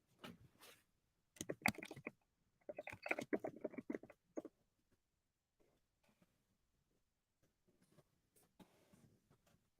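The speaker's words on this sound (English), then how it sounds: "I'm sorry if y'all can hear me typing." Fingers tap on a computer keyboard in faint, quick clusters of light clicks with pauses between bursts, quiet and close with no talk.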